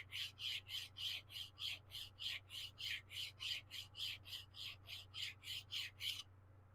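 Close, rhythmic rubbing or filing to clean a Norton carburettor banjo bolt: about twenty even back-and-forth rasping strokes over a low hum, stopping abruptly.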